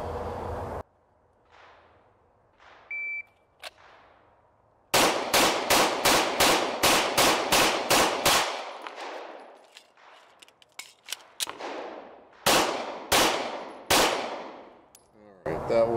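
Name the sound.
gunshots from PSA Dagger pistol during timed drill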